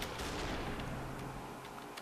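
Gunfire from the video game Superhot: a dense burst of loud, sharp reports layered over a steady game backdrop, with a few distinct cracks standing out near the end.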